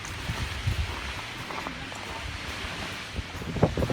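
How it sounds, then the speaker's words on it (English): Strong wind buffets the microphone near a mountain summit on a Vermont hike, giving a steady roaring rush with gusty swells and no clear speech. "the wind is just whipping up here, something fierce"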